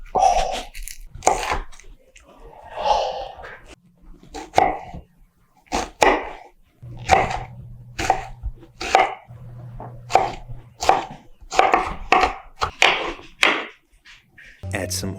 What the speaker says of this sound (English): Now to dice half an onion.